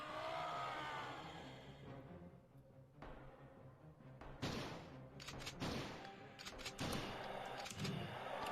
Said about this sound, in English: It's 10 shotgun shots, this one.